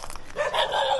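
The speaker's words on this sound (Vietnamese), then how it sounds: "Dí, cho dí 6 con chó luôn." Dogs bark at a motorbike chasing it along a countryside road in Vietnam, giving a short burst of close, loud barking over low engine rumble.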